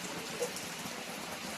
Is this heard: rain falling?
yes